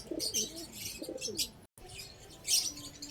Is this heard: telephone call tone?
no